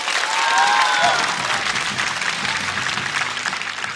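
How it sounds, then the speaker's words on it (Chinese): A live stand-up comedy audience claps and cheers for a comedian, producing dense, loud, sustained applause throughout with some crowd voices mixed in. "再次掌声送给"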